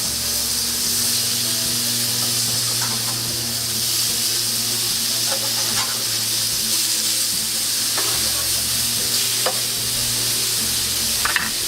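Burger patties fry on a hot grill with a steady loud sizzle and hiss, a constant bed of crackling fat with occasional small sharp pops, close up and unbroken by speech.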